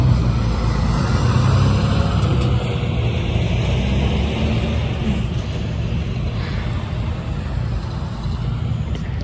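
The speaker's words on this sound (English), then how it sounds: "Just gonna have to wait for the truck to go by because you can't hear nothing." A truck rolls past on a road in rural South Georgia, a loud, steady broadband roar that swells early and slowly eases off, with no talking over it.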